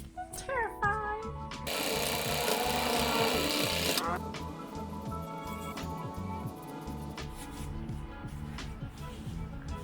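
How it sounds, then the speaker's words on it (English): Sewing machine stitching across a fabric face mask, a fast chattering run of needle strokes that surges loudly for a couple of seconds then carries on more softly, with someone talking over it. "I'm literally just going to sew across"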